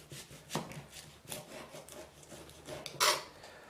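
A knife chops an onion on a cutting board in a home kitchen, giving several soft, scattered cuts and scraping rubs at moderate distance, with one sharper stroke near the end.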